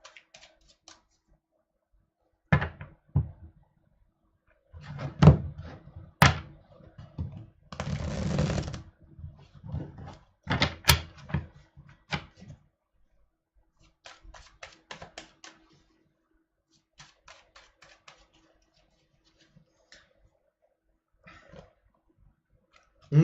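Tarot cards shuffled by hand in an irregular run of soft riffling and tapping bursts, with a denser flurry near the start and sparser light taps trailing off, no talk over it.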